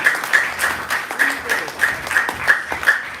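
A temple audience applauds with fairly regular, rhythmic claps that continue steadily throughout, while a voice speaks faintly underneath.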